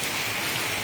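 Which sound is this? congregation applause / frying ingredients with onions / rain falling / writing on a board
rain falling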